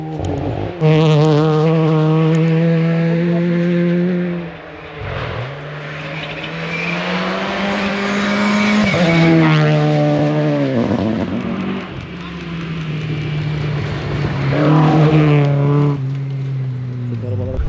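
Rally cars on a dusty gravel stage of the Istanbul Rally, part of the Turkish Rally Championship, roar past with loud engine notes rising and falling through gear changes, several passes in succession, heard close by.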